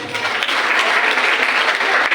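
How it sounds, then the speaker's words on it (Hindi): Steady applause from a seminar audience, dense clapping that continues evenly for a couple of seconds with no voices standing out. "एक बार तालियां तो बनती हैं।"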